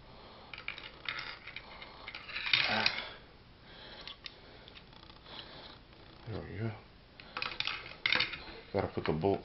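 Parts of an AK-47 rifle being reassembled after lubrication, with scattered metallic clicks, clacks and slides of the bolt and parts, close and fairly quiet, while someone talks throughout.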